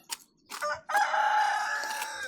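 A rooster crows loudly and close by, one long drawn-out call preceded by a few short clucks, with no talking.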